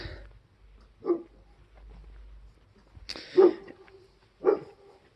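A dog barks three separate times, loud and fairly close, with short quiet gaps between the barks and no talking.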